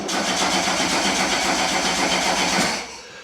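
A Golf GTI 2.0 8V engine on a standalone ECU cranks on the starter in a steady, fast rhythmic churn for nearly three seconds, loud and close, then cuts off without firing.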